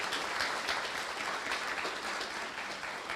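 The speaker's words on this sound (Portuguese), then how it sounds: "O aplauso, então, ao Francis Lê" An audience at a beekeepers' gathering on a campus gives steady, dense applause for the cooks, continuous and fairly close throughout.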